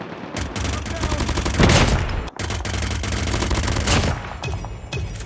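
A PDW submachine gun fires in rapid sustained bursts in a Call of Duty match, loud and close, with a brief pause midway before the automatic fire resumes.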